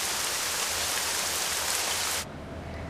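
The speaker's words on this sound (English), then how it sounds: "Sometime during the night, a slow, steady rain began to fall." A slow, steady night rain falls as a dense, even hiss that stays loud and constant for about two seconds, then cuts off abruptly to a quieter background.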